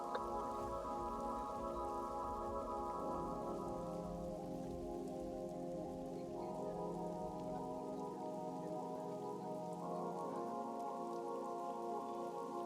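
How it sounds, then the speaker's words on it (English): Steady rain pours on a surface throughout, mixed with sustained tonal ambient music layers like a tabletop game soundscape; no distinct thunder rolls stand out and no one speaks. "It's raining, it's thundering."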